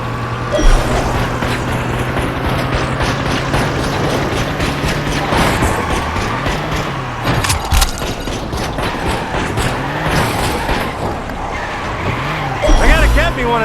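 Car in a Las Vegas gangster crime video game driving steadily with a continuous engine drone, tires squealing and skidding at intervals, loud and close, with voices talking over it.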